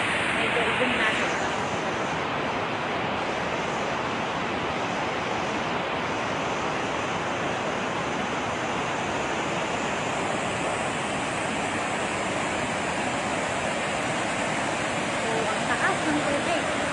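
Water from the open spillway gates of Magat Dam, with fifteen gates open during flooding in Cagayan and Isabela, roars in a loud, unbroken rush that fills the whole scene without pause.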